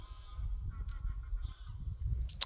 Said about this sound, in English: Man, these birds.